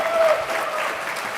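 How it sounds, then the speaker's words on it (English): A debate championship audience applauding its finalists, a dense wash of clapping at steady strength for a brief moment with faint voices mixed in. "A round of applause for our finalists one more time."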